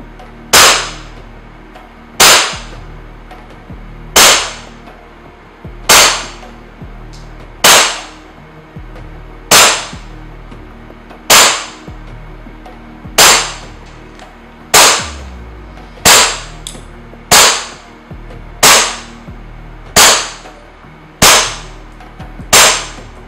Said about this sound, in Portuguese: Vou efetuar alguns disparos, fazer o FPS e mostrar o blowback dessa criancinha para vocês.